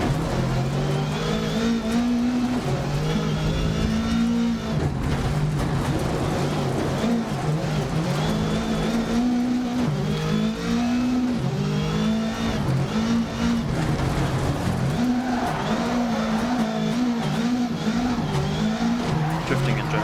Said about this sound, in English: Drifting in general in VR is so much fun.